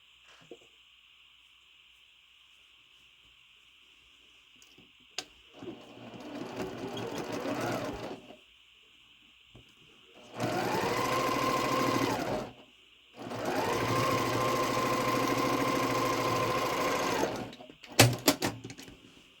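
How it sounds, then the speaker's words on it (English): A sewing machine stitches Halloween crow-themed quilt pieces together in three separate runs, the first short and the next two longer, each a steady close mechanical whir with pauses between. "Now we'll sew them together."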